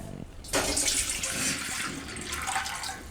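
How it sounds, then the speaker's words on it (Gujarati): Water gushes into a cooking pot in a single steady pour, starting abruptly after a brief moment of quiet and running loud and close until the end. "તો આપણે આ તપેલીમાં પાણી લઈ લેવું."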